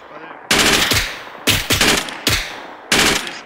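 Loud, close automatic bursts of gunfire in Arma 3 during a night operation: four separate volleys of rapid shots, each cutting in sharply, with brief pauses between them.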